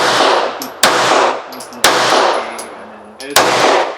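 A blued Firestar M43 9mm pistol fires with its factory magazine: loud, sharp, close shots at uneven intervals, each cracking then ringing away, with faint talk between them.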